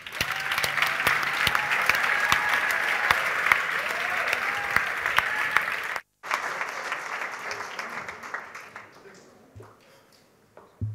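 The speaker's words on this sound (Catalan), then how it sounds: "Rebem-lo amb un fort aplaudiment." Audience applause at a secondary school graduation ceremony, a dense round of clapping that runs steadily for several seconds, breaks briefly, then thins out and fades toward the end.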